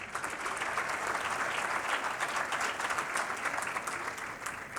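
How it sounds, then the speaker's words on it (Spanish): Audience at a public transparency panel gives the moderator a strong round of applause, dense and even clapping sustained without a break, fairly close and steady. "le damos fuerte aplauso a nuestro moderador"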